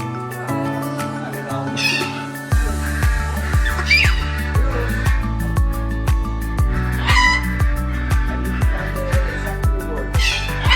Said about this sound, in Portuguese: de longe já escutei as cacatuas negras chamando